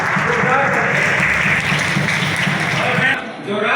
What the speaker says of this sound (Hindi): तालियों के साथ स्वागत आवेदन।